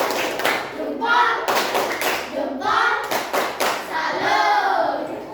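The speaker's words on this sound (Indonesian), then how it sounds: "Tepuk salut" A rhythmic clapping salute from a group of children in a classroom quiz game, several sharp patterned claps mixed with excited kids' voices and talk throughout.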